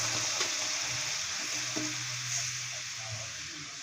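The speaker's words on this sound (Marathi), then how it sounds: "आता ह्यामध्ये मी एक वाटी दूध टाकून घेते" Milk poured into carrots roasting in a pan for carrot kheer sets off a steady, close broadband sizzle with faint stirring scrapes, continuous throughout with no talking.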